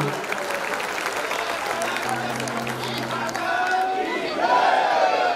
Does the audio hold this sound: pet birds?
no